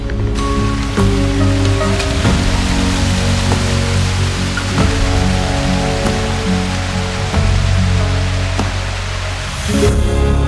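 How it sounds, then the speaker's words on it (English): Rain falling on a mountain summit in Glacier National Park, a steady close hiss of drops on surfaces that runs throughout, with faint sharp taps now and then. "it's now starting to rain pretty good"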